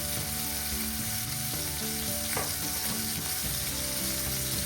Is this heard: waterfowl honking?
no